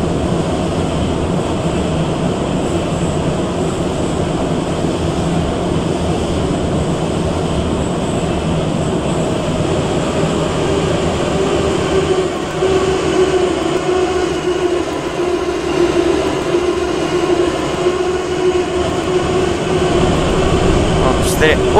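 A Moscow metro train in Roblox, heard from a passenger's seat in an E-type metro car. A continuous loud rumble and whine of the moving carriage runs steadily throughout.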